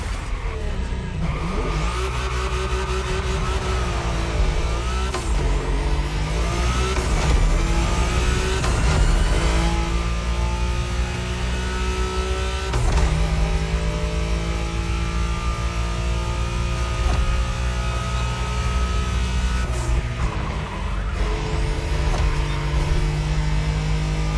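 A Nissan Skyline roars through a Wangan highway race in The Crew Motorfest, its engine droning loud and continuous with repeated rev swells, gear-shift dips and occasional tire squeal.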